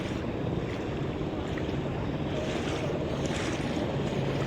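A passing motorboat heard from a kayak on open water off Kelloggs Beach, a steady broadband wash of engine and water noise with wind buffeting the microphone, continuous and fairly close throughout.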